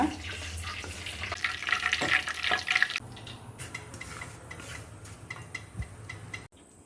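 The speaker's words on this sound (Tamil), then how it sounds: "இந்த பக்கம் வெண்ணெயும் காஞ்சின்ட்டுருக்கு" Butter melting and heating in a pan on a stove while making foxtail millet sweet balls, giving a steady soft frying hiss with light clinks and a brief louder stir in the first few seconds.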